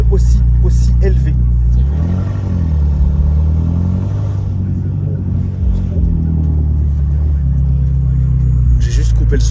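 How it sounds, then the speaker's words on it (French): A BMW with a stage 3 tune revs loudly and steadily, its deep engine roar rising and falling close by. "c'est la première fois que j'entends un son de BMW aussi élevé"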